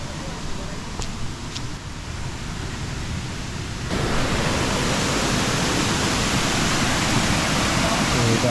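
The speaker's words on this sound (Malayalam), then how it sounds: "ഇതാണ് വെള്ളച്ചാട്ടം." A waterfall at a Kerala viewpoint where people are bathing pours in a steady, dense roar; it grows noticeably louder partway through and then holds constant and close, with no talk heard over it.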